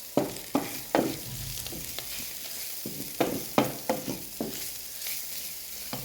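Boiled potato mixture with salt and spices is stirred in a pan, producing a soft steady sizzle with a run of sharp utensil scrapes and knocks against the pan, close up and without talking.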